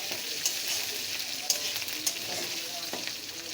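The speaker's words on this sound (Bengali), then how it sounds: "তো এই দেখো 1 চামচ আদা রসুন পেস্ট দিয়ে দিয়েছি, দিয়ে এটা একটু সুন্দর করে ভেজে নেব।" Ginger garlic paste frying in a pan while being stirred, a soft steady sizzle with a few sharp clicks of a utensil against the pan, close and quiet with no talking.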